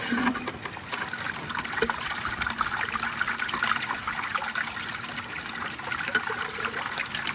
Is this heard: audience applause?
no